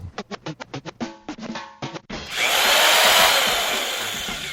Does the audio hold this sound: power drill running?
yes